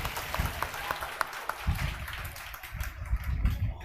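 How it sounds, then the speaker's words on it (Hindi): An audience at a coaching class applauds, a burst of scattered clapping at moderate volume lasting a few seconds, with a low background rumble. "जोर से ताली।"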